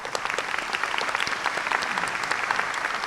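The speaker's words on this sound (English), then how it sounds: "let's give them all a round of applause" A high school ceremony crowd applauding honorees, dense steady clapping from many people filling the hall at an even level throughout.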